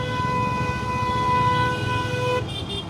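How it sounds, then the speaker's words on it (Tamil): A loud car horn holds one steady blast for over two seconds, then cuts off abruptly, with rumbling road noise underneath. "எதுக்குடா இப்போ ஹார்ன் அடிக்கிறீங்க"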